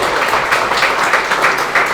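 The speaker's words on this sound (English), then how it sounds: "A little round of applause for 126." Applause for a 126-ball run in a straight pool (14.1) match, a dense, steady patter of hand claps sustained evenly throughout, with no voices over it.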